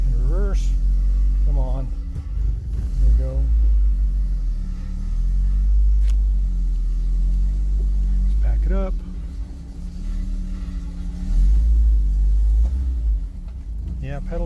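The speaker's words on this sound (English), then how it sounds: "Just going to pull it out of the shop here. Put it in reverse." A Fiat car backs out of a workshop in reverse, its low engine rumble steady and close, while a person talks over it at intervals.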